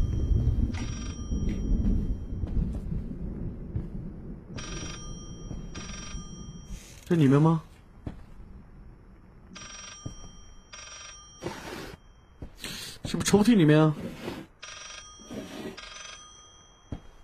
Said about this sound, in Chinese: 我听到其他的地方有传来电话的声音